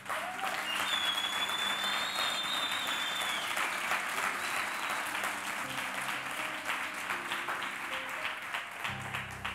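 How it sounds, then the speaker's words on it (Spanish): A church congregation applauds after a sermon, sustained clapping filling the room at moderate level, with a high tone drifting above it and a low hum entering near the end. "Dale un aplauso, por favor."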